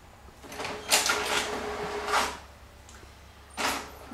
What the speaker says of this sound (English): So on this printer it's specialty paper, so I'll print OK, and we can print.